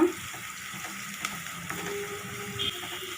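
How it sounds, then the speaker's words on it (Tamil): Chopped onions fry in a pan with fennel seeds and cloves, giving a soft, steady sizzle close by, with a few faint clinks and a brief stirring scrape, no voices. "இப்போ நம்ம கட் பண்ணி வச்ச வெங்காயத்தை இதில் ஆட் பண்ணிடலாம். நல்லா ஃப்ரை பண்ணிக்கோங்க."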